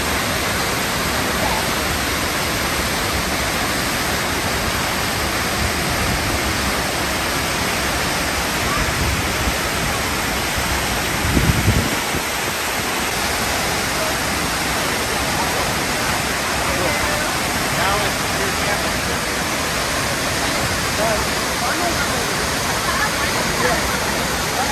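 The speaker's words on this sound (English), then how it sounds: "Let's get to the big famous glorious waterfall." Multnomah Falls roars as a steady, dense wash of falling water, loud and close, with a brief heavier thump near the middle and no speech.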